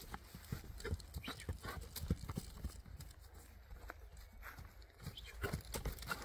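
A horse at a horse market being walked and turned in place, its hooves clip-clopping irregularly and close by over faint outdoor background noise.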